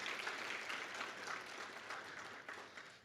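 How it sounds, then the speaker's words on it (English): Audience applause at a symposium, a short burst of scattered clapping from a room of people, fairly faint and steady before tapering off. "So just a quick round of applause for"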